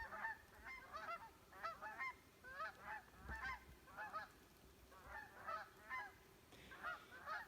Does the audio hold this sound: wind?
no